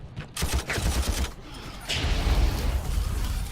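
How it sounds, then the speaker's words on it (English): Massed gunfire sounds through a crowded Armageddon battle, a steady rattling fusillade of many overlapping shots with mechanical clanks, loud and unbroken for a few seconds. "Now I guess we'll just shoot at these guys a bunch."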